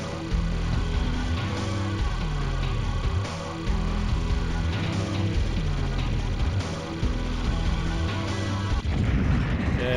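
Constant gunfire and booming explosions from the arcade shooter Truxton 2, loud and dense for the whole stretch, a rapid stream of shots mixed with heavy blasts and game music, with no talk over it.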